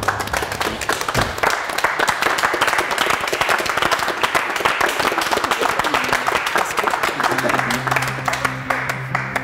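Audience applause in a mechanic's workshop, dense, loud, sustained clapping from a group that carries on steadily, with some speech and background tones coming in near the end.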